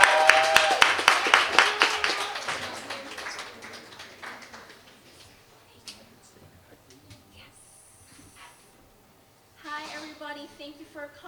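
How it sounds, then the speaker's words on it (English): An audience at a Black artists' showcase claps loudly and steadily for a singer heading to the stage, then the applause fades out and a voice speaks briefly over the quieting room. "Don't stop clapping until she gets to the stage."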